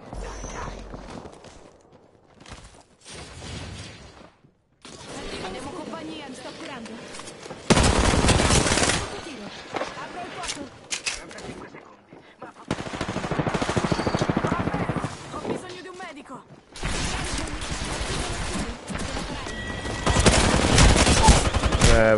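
Enemy gunfire in a PS5 shooter comes in loud bursts of rapid shots that break off into quieter stretches of movement and game noise, repeating several times across the scene.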